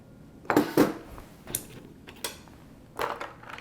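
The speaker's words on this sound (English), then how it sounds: "We'll chuck in some ice, because, yeah, it'll keep it colder." Ice cubes dropped into a glass of homemade strawberry soda, giving a few distinct clinking knocks spread over several seconds, close and fairly crisp, with no talking.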